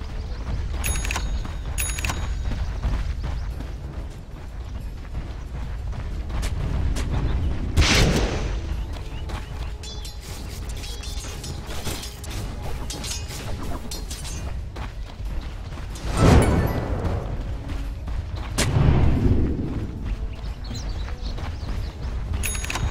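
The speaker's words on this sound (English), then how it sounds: "Radiant's top tower is under attack" In Dota 2, a tower comes under attack amid continuous battle noise: booming spell impacts, crackling hits and rumbling mechanical effects. A few sharper blasts rise out of the loud, dense mix.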